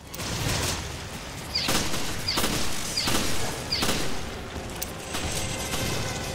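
Gunshots in the video game Resident Evil ring out in a steady series of four sharp reports about two-thirds of a second apart, each with a bright crack over dense background noise.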